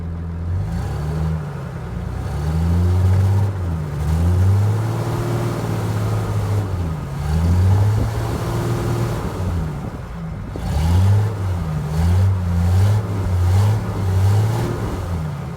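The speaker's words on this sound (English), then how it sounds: "But we'll give it a little bit of a rev" A GQ engine runs in repeated rev cycles, swelling from a low idle into rising, strained revs and falling back several times, loud and close with no talk over it.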